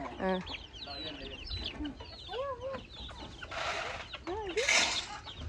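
Chickens cluck and chatter close by, with short rising calls and a few louder squawks, busy farmyard bird sounds throughout.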